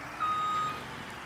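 A tractor in Farming Simulator 19 sounds its reversing alarm with a single steady electronic beep tone, clear and close, over a low background rumble, with no talk.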